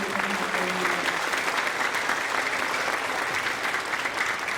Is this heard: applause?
yes